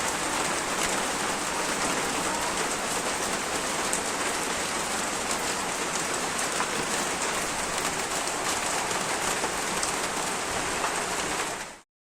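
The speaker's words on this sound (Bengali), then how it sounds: "দেখো কি বৃষ্টি হচ্ছে।" Heavy rain pours down continuously, a dense, loud, even hiss of drops hitting surfaces nearby, with no voices and no break until it cuts off at the very end.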